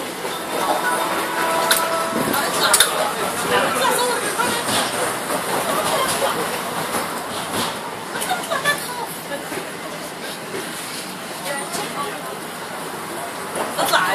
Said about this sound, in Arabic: هذا في اسطنبول هذا المترو